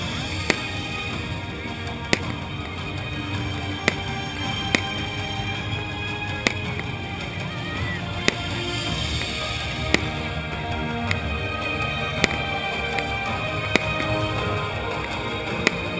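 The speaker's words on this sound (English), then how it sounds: "it's always great to finish off the day with a really good fireworks display" Fireworks at an evening celebration in Cartagena, Spain crack and pop at a distance in sharp, irregular bursts about every second or two over a constant murmur of crowd and ambient noise.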